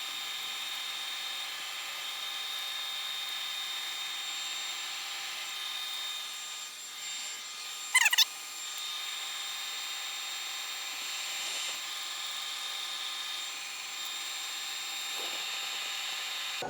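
A steady mechanical whir of a drill boring into steel at close range, running continuously, with one brief sharp metallic squeal partway through and no voices.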